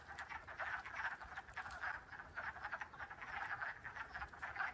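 A dense chorus of wood frogs croaks steadily from a pond, many overlapping clucking calls forming a continuous, fairly faint din with no voices over it.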